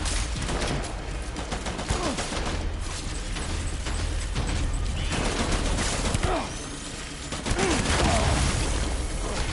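Launcher weapon firing in the game Death Stranding, a dense stretch of loud, continuous blasts and mechanical clatter that barely lets up, with a couple of heavier thumps late on.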